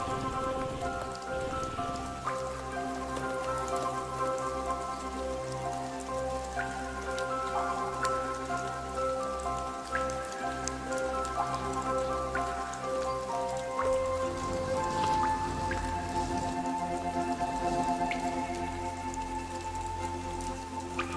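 Steady rain falls on leaves in a hummingbird habitat, a dense continuous patter of drops and drips close by, with a sustained musical tone running beneath it throughout.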